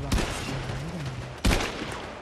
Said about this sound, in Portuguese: Ela mata com dois ou três tiros.